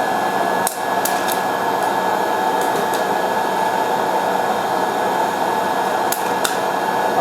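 A Nostalgia air-pop popcorn maker blows a steady, loud hot-air hum while a few sharp, scattered pops of popcorn kernels crack through near the start and end.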